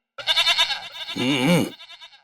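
A human voice imitates a goat, giving a loud, wavering, nasal bleat of about two seconds, close and alone.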